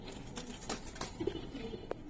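Pigeons kept for sale at a home loft, a few soft coos and brief flutters against a quiet, slightly noisy background.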